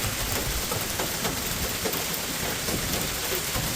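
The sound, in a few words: heavy rain storm with hail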